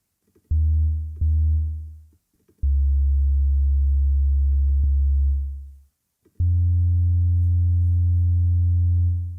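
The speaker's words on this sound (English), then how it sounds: "click on instrument, type in sine, and we'll select the sine bass" Sine bass synth in BandLab playing a bass line, three sustained pure low tones separated by short gaps, each note ringing steadily and then fading away.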